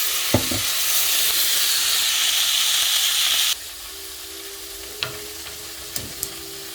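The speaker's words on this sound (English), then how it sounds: "I just take it out of the package and throw it in the pan." Ground beef sizzles steadily in an oiled pan while tacos are prepared, a loud broadband hiss that drops abruptly to a quieter fry halfway through, with a few sharp clicks and scrapes near the end.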